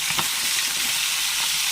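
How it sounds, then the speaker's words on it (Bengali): Hilsa fish frying in a pan, a steady dense sizzle with faint stirring clicks, close and alone with no voices. "তাই একটু কম করে ভেজে নিচ্ছি"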